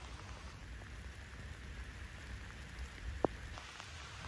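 Steady rain falls on a rural llama farm, a continuous even patter on surfaces, heard alone with one brief sharp tick partway through.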